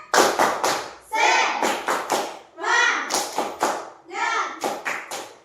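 Children in a classroom perform a rhythmic clapping chant, bursts of sharp, close, unison hand claps in set patterns alternating with voices chanting together.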